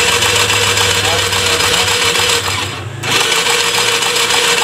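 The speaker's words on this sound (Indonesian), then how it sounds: "Tes starter." A Piaggio Liberty scooter that won't start, with the starter being tested. A loud steady mechanical whirring runs nearly throughout, briefly drops away in the middle, then resumes, and a person talks over it.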